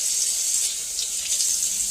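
Hot water pours steadily from a kitchen tap to measure for no-knead bread dough, a constant close hiss and splash with no other sounds.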